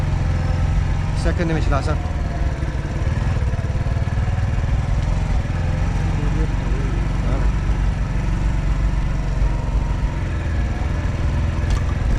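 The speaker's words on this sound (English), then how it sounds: "I'm on the motorbike as I say, giving you a front view of the village." A motorbike engine drones steadily and loudly throughout a ride through a village in Pakistan, with wind rumble and a few brief voices and faint horn-like tones over the constant engine noise.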